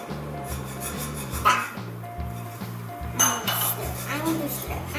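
A spoon stirs chocolate pudding in a pot, making rhythmic scraping and clinking against the metal, with a voice speaking briefly over the stirring.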